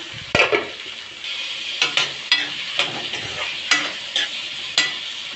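Chopped onions sauté in a hot pan for a home-cooked pori kuzhambu, a steady sizzle broken by about eight sharp, regular stirring scrapes, close and without talk.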